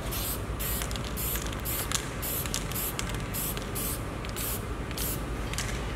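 Spray paint hisses in short bursts as a light coat goes onto Yamaha C7 grand piano parts, the repeated passes rhythmic and fairly quiet against a low background.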